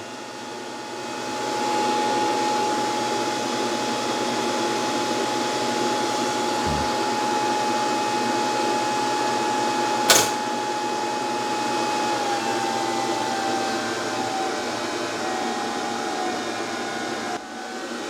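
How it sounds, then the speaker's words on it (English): Steady whooshing drone of the cooling fan on an Anker Solix C1000 portable power station running near its maximum output, loud and continuous with a faint tonal hum, a single sharp click partway through and no talking. "that fan noise is excessive, I would say"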